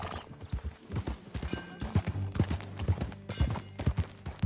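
Horse hooves clip-clop in Red Dead Redemption 2, a brisk rhythmic run of close, loud hoofbeats on firm ground, with a brief whinny and faint riding noise around them.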